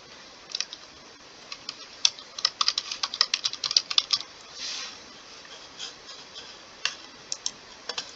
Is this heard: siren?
no